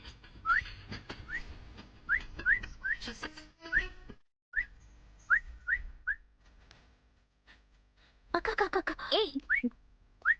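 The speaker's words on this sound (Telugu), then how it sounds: "ఈలే కదా పాట వినిపిస్తుంటే తెలియట్లా?" Someone whistles a song in a comedy film scene: short, bright melodic notes repeat in a loose rhythm, with a pause partway through and a denser run of whistled notes near the end.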